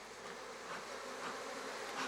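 Honeybees buzz steadily around beehives set out in summer in the Pyrenees mountains, a continuous moderately faint drone with gentle swells in intensity and no voices.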